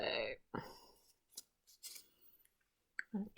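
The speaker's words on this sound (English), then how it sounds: "get out your scissors, and we're going to cut along that line" A few sharp, separate snips of scissors cutting paper, close up, with short quiet gaps and light rustling between cuts.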